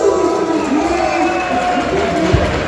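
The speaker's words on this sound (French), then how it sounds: "on l'applaudit encore" An audience at a 50th birthday party for twin sisters cheers and applauds in a steady, lively crowd roar, with voices mixed into the noise throughout.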